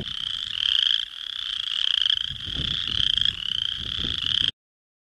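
Spring peeper frogs, tiny 1 to 1.5 inch frogs, call from a Montana prairie wetland in a loud, dense chorus of high piping peeps repeating steadily, with a low rumble of wind beneath.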